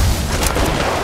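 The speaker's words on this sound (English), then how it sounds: "Throwing thermite grenade." Thermite grenade exploding in Apex Legends Mobile: a short, loud, dense burst of noise with a low boom at the start and a sustained crackling roar, heard up close.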